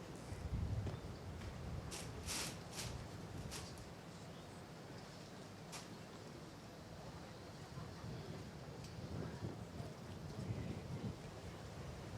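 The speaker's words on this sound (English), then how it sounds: "Really strong wind at the moment." Strong wind gusts roar steadily across an open outdoor lawn bowls green, a broad, buffeting rush with low rumbling microphone buffeting throughout, swelling at the start and again near the end, with a few brief sharper knocks along the way.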